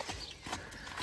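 A horse in training steps along and its hooves give a few quick, muffled clip-clops at moderate distance over steady background noise.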